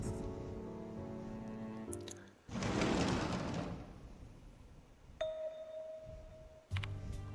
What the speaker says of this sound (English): maybe it's because I'm the only one who can hear the bell tolling